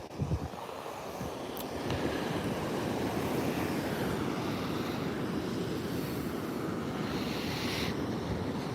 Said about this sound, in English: I think the wind's picking up a little bit too.